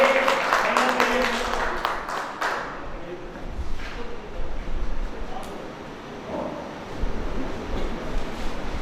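An audience at a Hindi poetry gathering (kavi sammelan) claps for a poet, a dense burst of applause that fades after a few seconds into a quieter, murmuring room.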